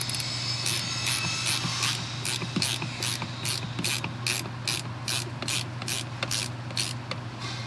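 Steady ratchet wrench clicking from a 14mm socket on a camper swing-out install, the rapid pawl ticks coming in regular bursts close by over a constant low hum.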